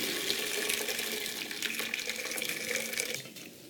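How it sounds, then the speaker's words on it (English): Cooked penne pasta is drained, and water pours and splashes steadily at close range for a few seconds, with no talking. "Okay, so my noodles are about done. Let's go ahead and get them drained."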